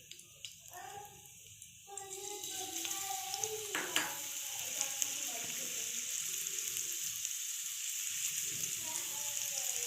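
Someone speaks briefly, then a bright hiss of cumin and sliced ginger sizzling in hot oil rises and continues steadily.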